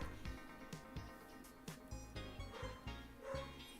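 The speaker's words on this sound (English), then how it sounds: "They're just barking at a squirrel." Several dogs barking indoors at a squirrel, a quick run of short, sharp, fairly close barks in irregular bursts with a few yips between them.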